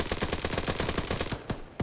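Automatic gunfire in a PvP shooter video game rattles off in a fast, steady stream of close, punchy shots, then breaks off and leaves two last isolated shots.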